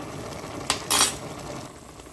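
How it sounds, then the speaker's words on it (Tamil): A spoon or ladle clanks against a pot as mutton curry is stirred after cinnamon powder goes in, two quick metallic scrapes close by over a low steady background. "கருவாப்பட்டை தூள் போட்டுட்டு நல்லா கிளறுங்கோ"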